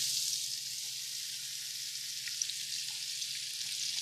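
Diced celery and onions frying in a pot for a corn and crab chowder, giving a steady, fairly quiet sizzle with soft crackles throughout and no talking.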